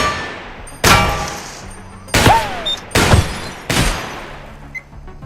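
Four loud, sharp bursts of turret gunfire in the Warhammer 40K Darktide video game, spaced about a second apart, each with a quick decay and metallic ringing tails, followed by a brief faint ping.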